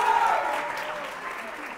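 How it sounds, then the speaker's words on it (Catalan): Studio audience applause on a television quiz show rises as a soft, even patter of many hands. It fades gradually over a couple of seconds and stays fairly quiet and uniform. "Aplaudim, si us plau, aquests 170 punts."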